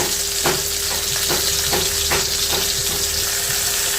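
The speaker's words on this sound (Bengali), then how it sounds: "হলুদ মরিচ লবণ দিয়ে মেখে তেলের মধ্যে একটু মাছের মাথাটা একটু ভেজে নিব" Rohu fish heads coated in turmeric, chili and salt fry in hot oil with a loud, continuous close sizzle, while a utensil scrapes and taps the pan several times at an uneven pace.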